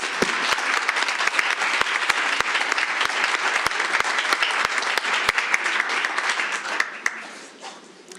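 A crowd at a school board meeting claps steadily, with sharp individual claps standing out from the dense applause before it thins and fades near the end.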